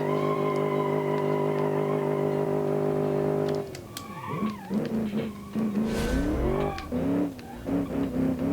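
Car tires spin and squeal during a first-gear burnout in the Automation car-design game, a steady engine drone giving way to rising, wavering screeches over several seconds, loud and close with no talking.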